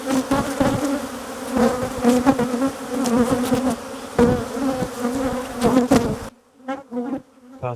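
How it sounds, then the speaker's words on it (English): Angry honey bees buzz loudly and continuously close by around an opened hive during requeening, a dense droning swarm that thins out near the end. "Look at these bees attacking bees."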